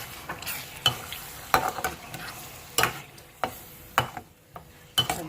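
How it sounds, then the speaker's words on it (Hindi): Chicken karahi with cream and yogurt frying over low heat, with a soft sizzle under intermittent sharp scrapes and knocks of a spoon against the pan, close and without speech. "अब इसे 2-4 मिनट के लिए थोड़ा सा से भूनेंगे।"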